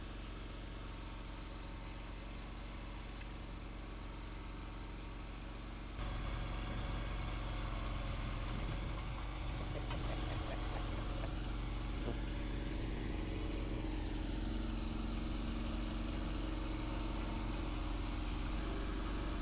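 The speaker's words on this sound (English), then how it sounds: "you don't need to hear the diesel engine going" A core sampling rig's diesel engine drones steadily at close range, growing louder and rougher partway through as it works harder drilling into limestone.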